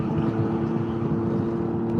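Can-Am Ryker three-wheeled motorcycle riding with a loud aftermarket exhaust, a steady droning engine roar mixed with rushing wind, continuous and close.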